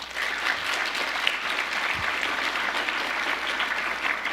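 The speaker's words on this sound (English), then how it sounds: "Can we give them a round of applause?" A high school National Honor Society induction ceremony audience claps for the club's advisors in a loud, full burst of applause that holds steady throughout.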